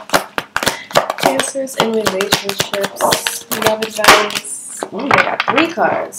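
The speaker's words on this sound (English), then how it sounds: "Sorry, that's my dog. She's like going at her bowl." A dog noses and knocks at her empty food bowl, sending out repeated sharp clatters and clinks in an uneven rhythm, close by and loud, while someone talks over it.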